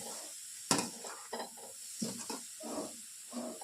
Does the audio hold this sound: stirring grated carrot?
yes